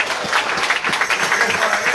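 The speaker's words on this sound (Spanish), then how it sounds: "Dile fuerte ese aplauso al Señor." A church congregation applauds during a sermon, a steady wash of many hands clapping at an even, moderate level with no break across the two seconds.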